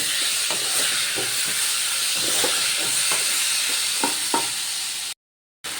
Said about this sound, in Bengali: এবার ওই ভেজে রাখা যে থোরগুলো সেগুলো দিয়ে মশলার সাথে কষিয়ে নেব